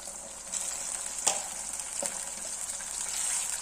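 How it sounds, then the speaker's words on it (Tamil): Salted water heating in a pot toward a boil gives a steady, soft hiss with faint bubbling and a couple of brief, sharper pops. It plays close and alone, with no talk. "கொதிக்க ஆரம்பிச்சிச்சு பாருங்க"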